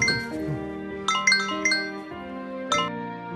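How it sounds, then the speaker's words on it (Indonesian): A mobile phone ringing loudly with a bright chiming, tinkling melody of repeated bell-like notes, close and alone, with no talk. "dia dikejutkan dengan suara HP-nya yang berdering kencang."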